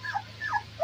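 Shih tzu puppy whimpering nearby, three thin, high whines in a row, each rising and falling briefly over a faint steady hum.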